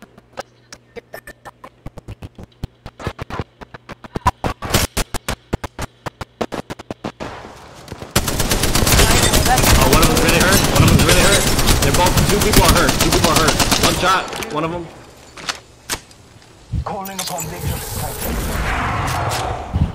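Gunfire in the video game Apex Legends: scattered single shots, then long sustained automatic bursts that fill the mix, fading briefly before another burst.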